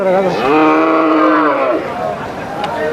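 A young milk-fed calf at a weekly cattle market lets out one long, loud, close moo lasting most of the moment, with faint market chatter behind it.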